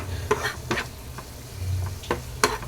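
Prawns frying in oil with masala, a soft sizzle under a few sharp scraping stirs spaced across the moment, close and moderately quiet.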